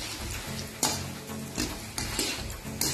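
Fox nuts (makhana) frying in hot ghee in a kadai: a steady sizzle runs throughout, broken by periodic sharp scraping clinks of a metal spoon stirring against the pan.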